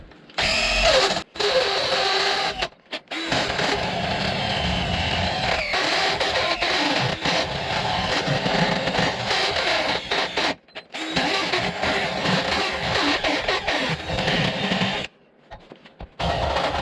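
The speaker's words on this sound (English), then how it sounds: "Let's try a Dremel bit." A Dremel rotary tool bit grinds on a steel Dana 35 axle truss on a Jeep YJ, a loud whining buzz in sustained bursts separated by a few brief pauses.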